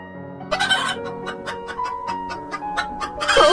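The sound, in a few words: chicken clucking in a cartoon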